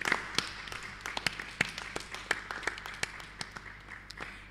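A church congregation clapping to acclaim Jesus during a children's worship service, a steady patter of many hands at moderate distance, rhythmic sharp claps over a soft background murmur.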